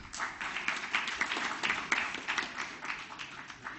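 A round of clapping for award winners at a safety convention ceremony, moderately loud with individual claps distinctly audible in an uneven, lively patter that stays fairly even to the end.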